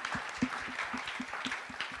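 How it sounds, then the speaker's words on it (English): Quiet, thin applause from a small audience at a careers graduation event, a few claps scattered over two seconds with a roomy, distant feel and no voices. "give everybody a fabulous round of applause"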